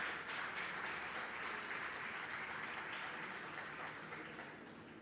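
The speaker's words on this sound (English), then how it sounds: "So please give them a good round of applause." Sustained audience applause at the IIT Madras Physics Department's 62nd convocation ceremony, a broad even patter of many hands that holds steady and then tapers off toward the end.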